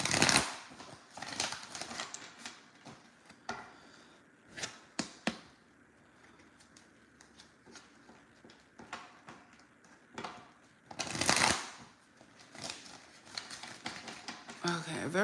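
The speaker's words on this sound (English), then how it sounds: "It's just like the cards doesn't even want to shuffle." Irregular bursts of riffling and snapping as a deck of cards is shuffled up close, with pauses between attempts and some voice underneath.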